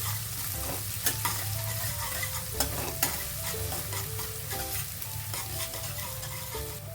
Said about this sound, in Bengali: কুচনো পেঁয়াজটা আমি ব্রাউন করে ভাজবো প্রথম